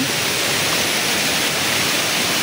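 Balagbag Falls roars with dense, steady rushing water, loud and close, a constant broadband wash with no voices.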